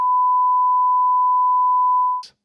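A single steady censoring beep, a pure electronic tone held loud and unbroken for about two seconds before cutting off, followed by a brief faint rustle.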